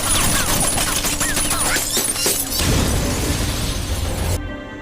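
A loud burst of gunfire and crashing debris as a police car is shot up in the film Lucky Day, followed by a heavy, roaring explosion that cuts off abruptly.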